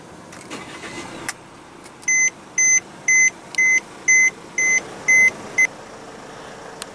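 A 2016 Mercedes E250's 2.1-litre twin-turbo four-cylinder diesel engine turns over and settles into a low rumble, while a series of eight evenly spaced electronic beeps chime over it.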